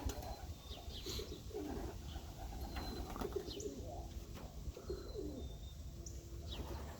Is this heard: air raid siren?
no